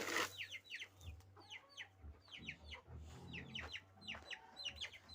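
Ducks and a drake in a farmyard, a flurry of close quacking and squawking calls in quick irregular bursts over a low background hum, with no speech.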